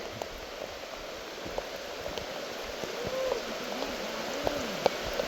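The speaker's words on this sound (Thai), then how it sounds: "ฝนแรงจริงๆ" Heavy rain falls steadily outdoors, a constant wash of drops pattering on surfaces with scattered sharper taps, moderately loud and even throughout.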